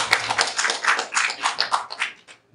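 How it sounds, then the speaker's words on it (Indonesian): Audience at an Islamic business study gathering claps together, a quick ragged flurry of hand claps lasting a couple of seconds before dying away. "Kasih tepuk tangan dulu dong"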